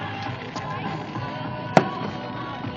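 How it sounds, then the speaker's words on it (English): Bonfire night fireworks heard outdoors, a single sharp bang standing out over a murky background of distant crowd noise and low rumble. "the fireworks going on over there"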